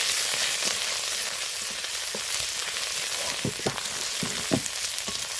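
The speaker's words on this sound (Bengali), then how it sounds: "আদার উপর দিয়ে দিলাম একটু হলুদ ভালো করে একটু লাল করে ভেজে নেব" Ginger and turmeric frying in oil for khesari greens, a dense steady sizzle with scattered sharp crackles and pops, close and without speech.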